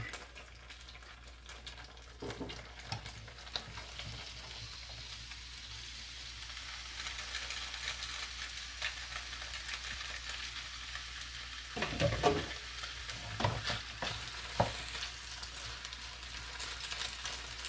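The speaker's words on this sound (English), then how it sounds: "Now we're gonna throw in the broccoli." Broccoli hits hot oil in a pan while cooking broccoli beef, giving a steady close sizzle of stir-frying with a few louder crackles and bursts partway through.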